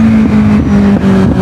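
A motorcycle revs hard inside a tunnel, its loud engine note holding steady and then stepping up in pitch in short surges, close and echoing.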